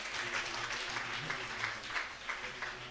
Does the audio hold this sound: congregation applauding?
yes